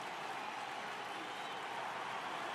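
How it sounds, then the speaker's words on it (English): Baseball stadium crowd in an MLB video game applauds and roars in a dense, steady wash of noise, distant and even throughout with no clear breaks. "The crowd is ready to erupt as their guys get set to take the field."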